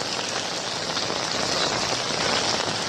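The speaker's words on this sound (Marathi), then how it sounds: "जोरात पाऊस चालू आहे ना कल्याणमध्ये." Heavy monsoon downpour in Kalyan, a dense, steady roar of rain hammering surfaces without pause, loud and close with no voices.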